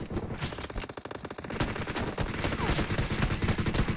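Rapid pistol gunfire rattles through a team deathmatch video game round, a dense burst of sharp repeated shots with some echo that stays loud and continuous throughout.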